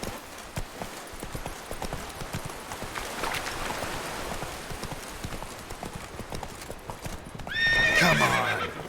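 A horse gallops in The Witcher 3 video game, its hooves clip-clopping in a fast, steady rhythm close by. The horse whinnies loudly near the end.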